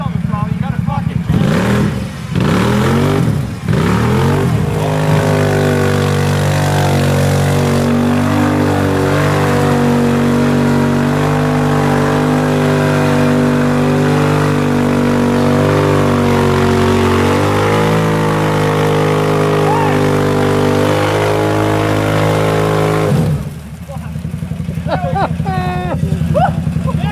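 An off-road vehicle's engine roars and revs hard at a mud bog run in Ontario, Canada, staying loud and close almost throughout, its pitch rising and dropping under throttle before cutting off near the end.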